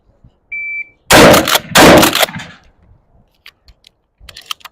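Two loud, close shotgun blasts fired at a target, about half a second apart, each with a short decay, followed by faint clicks and handling noises; a brief electronic beep comes just before the first shot.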